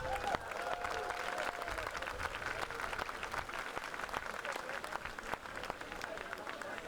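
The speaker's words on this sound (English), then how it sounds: "Give yourselves a round of applause." A large outdoor crowd on a downtown Vancouver street claps and cheers at an opening ceremony, a dense continuous roar of hands with sharp individual claps standing out.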